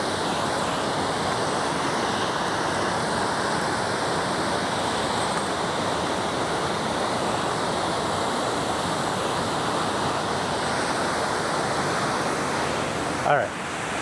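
Water rushes steadily over a dam in a loud, unbroken hiss and roar that fills the whole stretch, with a brief faint knock near the end.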